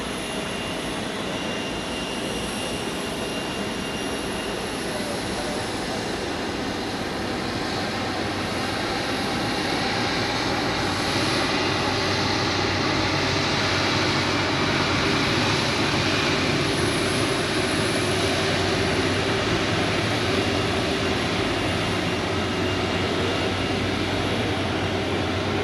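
An Edelweiss Airbus A340 at Zurich Airport gives off a steady, broad jet-engine roar that runs unbroken throughout and swells slightly louder about halfway through, with no voices heard.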